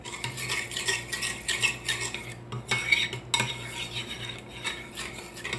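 A spoon stirs a sweet dessert mixture in a bowl, giving repeated close scraping and clinking against the sides at an uneven, busy rhythm with no voices.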